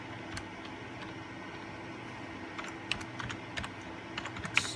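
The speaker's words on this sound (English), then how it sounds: "Bit tricky typing this with one hand with the camera." Quiet, irregular clicking bursts from a computer keyboard as commands are typed into an Ubuntu terminal during network setup, with a faint steady background hum.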